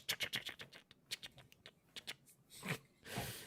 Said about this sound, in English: I still hear that typing, man.